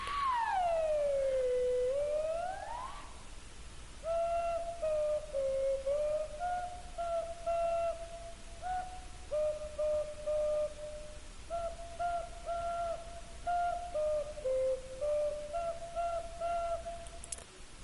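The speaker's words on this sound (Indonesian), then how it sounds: "bunyi yang dihasilkan atau nada yang dihasilkan oleh pipa organa tertutup." Sustained whistle-like tones from a closed organ pipe, first a sliding pitch that dips and rises, then a series of steady pitched notes held one after another, clear and close with no talking.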